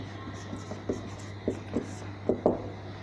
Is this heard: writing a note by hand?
yes